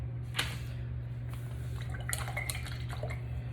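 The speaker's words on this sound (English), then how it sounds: "Rinse off my brush." A paintbrush swished and tapped in a water cup while painting a gnome, giving soft close splashes and clinks over a steady low hum.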